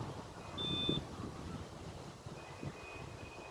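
Distant fishing bite alarm buzzers beep faintly across the water: a short high-pitched burst, then a few spaced beeps a couple of seconds later, all under steady wind noise.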